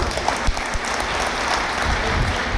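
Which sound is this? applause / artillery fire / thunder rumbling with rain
applause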